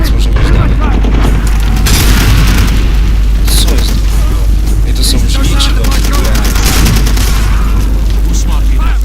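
Gunfire and explosions from the Far Cry 2 video game, a loud, dense barrage of booming shots and bursts that continues throughout, with someone talking over it now and then.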